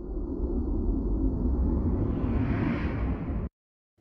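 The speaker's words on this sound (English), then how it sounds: "I can just use that to create the whoosh" A sustained trailer-style whoosh from a sound effects library swells with a broad rushing roar and rising airy texture, then cuts off abruptly into silence.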